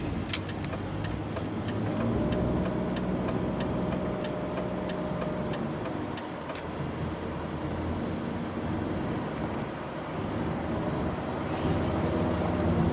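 A BMW E39 523i sedan gives a steady, continuous drone of engine and road noise during a test drive, with a faint ticking early on.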